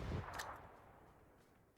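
A grenade detonates with a loud, deep boom at the start and a sharp crack just after, then decays into a rumbling tail, set in a competitive shooter match.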